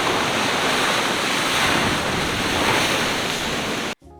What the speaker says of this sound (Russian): Сегодня волны, но они даже делают его более каким-то живым.